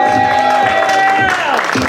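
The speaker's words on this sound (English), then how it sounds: "give yourselves a round of applause" A comedy club audience claps and cheers briefly at close range, with whoops over the dense applause.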